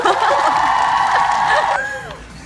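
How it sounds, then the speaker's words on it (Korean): An inserted applause sound effect with crowd cheering and whoops, a dense clapping wash lasting about two seconds before fading away. "이제 박수 효과음 넣어야 되는데"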